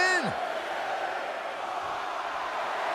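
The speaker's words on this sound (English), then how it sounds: "Listen to this crowd count the next one in." A dense arena crowd roars steadily throughout in a wrestling video game's Royal Rumble match, loud and continuous, with a brief rising whoop near the start and no distinct count beats standing out.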